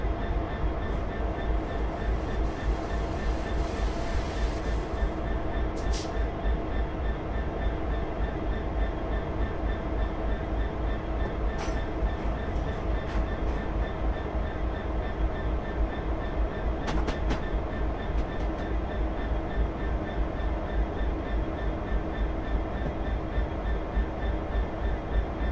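A Class 66 Freightliner diesel locomotive runs on the Great Western Main Line in Train Simulator 2015, giving a steady engine drone and rhythmic rail clatter throughout, with a few brief high metallic squeals over the continuous rumble.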